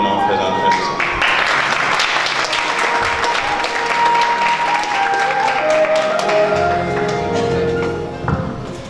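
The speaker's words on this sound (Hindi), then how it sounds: "तशरीफ लाते हैं आपकी तालियों में जनाब फैजान फैजी साहब।" Steady, full applause from a sizable crowd at a company anniversary gathering in Lahore, Pakistan, loud and continuous, with a voice speaking over it.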